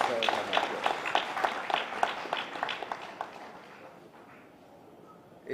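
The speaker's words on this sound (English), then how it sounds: "you deserve to give yourself an applause" Attendees at a credit union annual general meeting applaud together, their quick clapping loud at first and then thinning out and fading into a quiet room.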